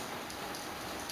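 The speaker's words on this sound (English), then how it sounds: "Waiting for the rain to stop." Rain falls steadily as a soft, even hiss with faint scattered drop patter throughout, quiet and without voices.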